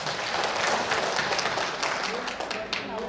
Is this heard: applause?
yes